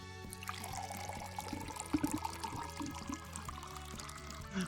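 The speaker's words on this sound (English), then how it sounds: "she pours the tea into a couple cute-looking teacups" Tea poured into a pair of teacups in the video game Sugar Sweet Temptation, a soft, quiet liquid trickle running over a gentle background music bed.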